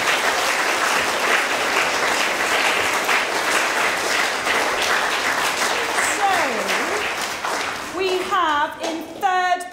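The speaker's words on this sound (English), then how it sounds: "So huge round of applause for year five and year six" An audience at a school poetry competition gives sustained loud applause, a dense wash of clapping that fades near the end as voices and a few calls come through.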